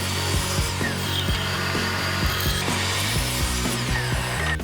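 A saw cuts through wooden boards for a bat house, its loud, close, rhythmic strokes repeating steadily with no talking.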